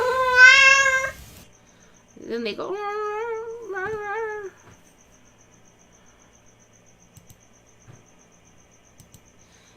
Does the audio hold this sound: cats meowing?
yes